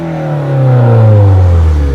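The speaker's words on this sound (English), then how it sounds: "Hey, go inside and then rev it." A JDM Mazda Miata with a 6-speed manual revs hard at close range, engine pitch climbing and holding loud, then easing slightly toward the end, with no talking.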